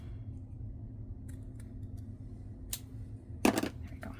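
Cardstock being trimmed for a handmade card, a quiet room with a few soft ticks before two crisp cutting strokes, the second louder and closer.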